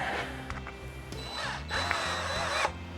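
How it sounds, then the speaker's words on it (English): A power driver runs in short bursts while driving a screw into a wooden cutting board, whirring with rising and falling pitch and a few clicks between spurts. "Got a screw,"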